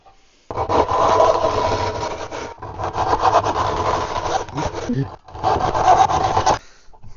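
A handsaw cuts through timber for a handmade door with a curved head, in three loud bursts of rapid rasping strokes separated by short pauses.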